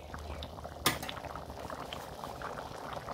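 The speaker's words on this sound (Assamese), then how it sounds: "মোৰ ঘুগুনিখিনি উতলিছে" Ghugni, a dried pea curry, bubbling quietly in a pot with a soft continuous simmer, broken by one sharp clink of a utensil early on.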